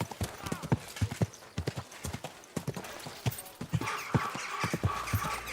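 Hooves of a horse in Kingdom Come: Deliverance II clip-clop in a steady, close walking rhythm, with a brief rougher rustle of movement near the end.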